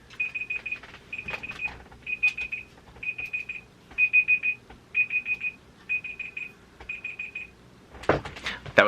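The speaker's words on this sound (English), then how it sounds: "That was my alarm" An alarm beeps in a steady repeating pattern of short trilling bursts, about one per second, moderately loud indoors, with faint rustling and a few soft knocks around it.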